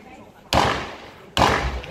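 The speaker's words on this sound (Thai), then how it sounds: "ซึ่งเสียงปืนดังตอบโต้กันไปหลายนัดนะครับ" Two loud, sharp bangs about a second apart ring out in a narrow residential alley during a shootout between an armed suspect and police, each blast followed by a short echoing decay over a background hum.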